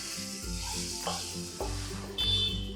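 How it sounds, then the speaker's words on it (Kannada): A gooseberry and spice mixture fries on a low flame for chitranna, giving a soft, steady sizzle broken by a few stirring scrapes, with faint tonal sounds running alongside. "ಲೋ ಫ್ಲೇಮಲ್ಲೇ 2ರಿಂದ 3 ನಿಮಿಷ ಫ್ರೈ ಮಾಡ್ಕೊಂಡಿದ್ದೀನಿ."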